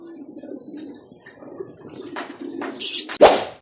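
Soft, low racing pigeon coos ripple steadily near the mic, followed by a few sharp clacks and a brief flutter of wings at the end.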